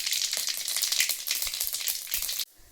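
Mustard seeds splutter and onion sizzles in hot oil for a Sunday country-chicken kulambu, a dense crackling hiss with sharp pops that cuts off abruptly near the end.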